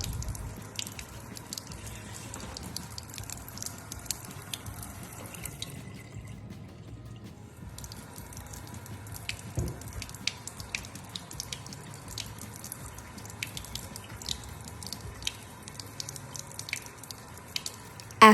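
Water rinsing iodine stain off a lab slide, a steady faint trickle with scattered drips and splashes, briefly stopping before the flow resumes.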